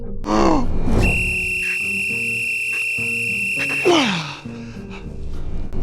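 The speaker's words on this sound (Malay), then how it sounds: "kalau saya tiup whistle kuat-kuat" A loud, steady whistle blast holds for about three seconds, framed by brief groaning vocal sounds before and after, with a low rhythmic musical tone underneath.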